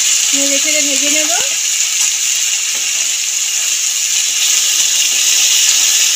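Spices are stirred and fried in a pan for a Bengali raw banana kofta curry, with tomato, ginger and green chilli added, making a loud, steady sizzle that opens with a brief tonal squeak.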